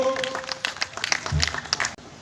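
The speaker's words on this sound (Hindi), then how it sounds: "तो अब आप लोगों की जोरदार तालियों के बीच में मैं आमंत्रित करना चाहता हूं रविशंकर चतुर्वेदी जी को।" Audience applause at a Hindi comedy and humour stage event, a dense burst of clapping that fills the hall with mixed chatter over it.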